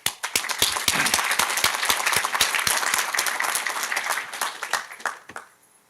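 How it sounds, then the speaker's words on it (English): Applause for a guest speaker at a university commencement ceremony, a steady burst of many hands clapping that holds loud for about five seconds, then thins and fades out at the end. "Let's give Dr. Chu a loud round of applause"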